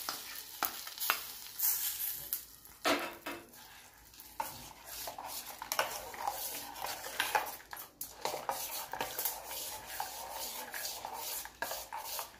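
Hot tempering poured into buttermilk curry, a soft sizzle with stirring and scraping of a spoon against the pot, fairly faint and close, in irregular bursts with no talking.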